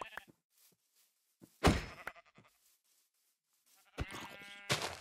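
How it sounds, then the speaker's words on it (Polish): Brown sheep in a Minecraft world giving a few short bleats, loud and close, separated by quiet gaps with faint game sounds in between. "Brązowa owca."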